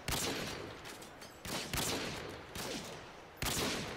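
Gunfire in Modern Warfare 2 sounds as four sharp, loud shots spaced about a second apart. Each one cracks sharply and trails off into a decaying rumble, with no voices.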